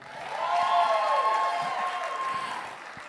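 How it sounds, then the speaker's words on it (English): A comedy night crowd gives a short round of applause, with whoops and cheers rising over the clapping. It swells quickly, holds for about two seconds and tapers off. "How about a round of applause for yourself, you beautiful people?"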